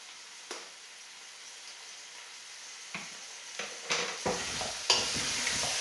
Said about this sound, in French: Ici, je fais bien revenir mes légumes.